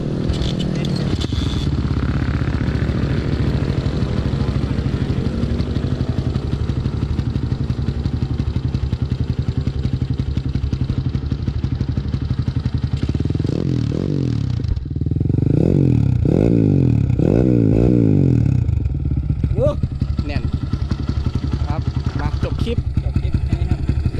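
A Honda Sonic 125 motorcycle engine runs steadily at idle, then revs up in several rising bursts near the end, with some clatter and a voice talking over it.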